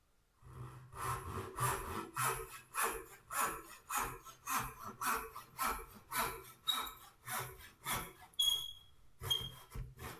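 A hand saw cuts wood for a tenon housing in a spice jar rack, with steady rhythmic back-and-forth rasping strokes, close and moderately loud, about a dozen strokes without talk.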